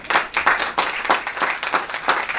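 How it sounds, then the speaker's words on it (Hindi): A motivational talk audience claps for themselves in uneven bursts, the applause moderately loud and pulsing rather than steady, with a few claps standing out over the rest. "तो आप लोग अपने लिए जितनी जोर से ताली बजा सकते हैं बजाय"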